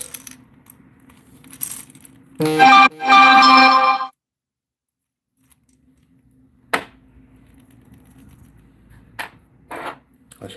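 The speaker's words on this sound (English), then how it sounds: "I should have turned my notifications off." A phone notification goes off close by as a loud burst of bright chiming tones lasting under two seconds, set against quiet handling clicks and taps with a near-silent pause afterward.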